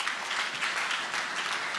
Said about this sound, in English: Can you also clap for him?